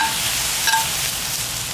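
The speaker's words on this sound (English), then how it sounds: "Now to this, we're gonna add a tablespoon of soy sauce. Oh, listen to that. Sizzle, baby." Soy sauce and mushrooms sizzle in a preheated cast iron pan over medium-high heat, a steady broadband hiss with a light stir partway through and no talking.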